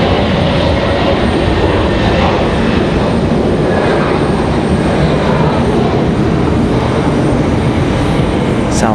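A heavy airliner departing Raleigh-Durham International Airport, its jet roar steady, loud and broadband, holding constant throughout without any voices.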